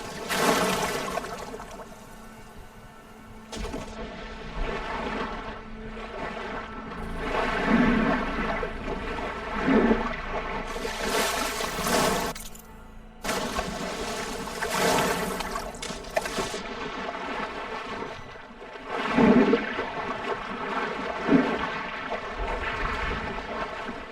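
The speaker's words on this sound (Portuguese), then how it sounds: "Legal, água bem realista aqui do jogo." Realistic water in Horizon Forbidden West: running, trickling water with soft splashes and lapping, rising and falling in waves of loudness, mixed with game ambience and no talk.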